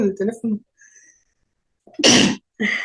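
A single sharp sneeze bursts out loud and close after a short pause, with people speaking Spanish just before and right after it.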